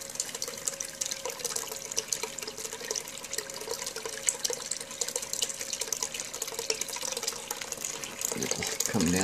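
Water washing paydirt down a Dirt Hogg sluice, a continuous close trickling and splashing flow with small gravelly bursts, rising slightly in the final second.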